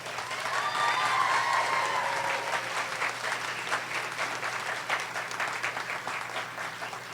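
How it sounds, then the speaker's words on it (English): A commencement audience at a community college applauding the faculty, dense sustained clapping from a large crowd filling the whole stretch, with a brief whistle-like tone early on and the applause gradually thinning. "Could we have a round of applause for the faculty?"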